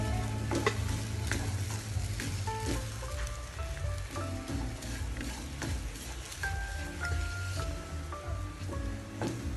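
An egg fries in a pan, giving a steady close sizzle with scraping and stirring clicks from a utensil shaping it throughout, with no talk.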